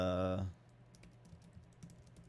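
Soft, irregular keystrokes on a computer keyboard, typed in quick light taps while looking something up, close and quiet after a brief burst of voice at the start.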